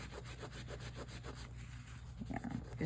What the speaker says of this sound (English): trying to scrub as much of it off as possible